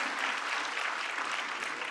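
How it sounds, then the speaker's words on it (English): An audience applauds co-chairs and speakers at a World Malaria Day event, producing dense, steady clapping that fills the room evenly without breaks. "Another round of applause to our co-chairs and our esteemed speakers."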